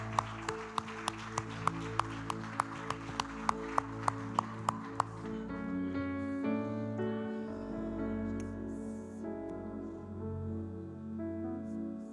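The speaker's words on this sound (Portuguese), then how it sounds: "Você pode aplaudir bem forte ao Senhor por isso?" A church congregation claps in a steady, evenly spaced beat for about five seconds, rather faint over quiet worship music, after which the clapping stops and the music carries on alone.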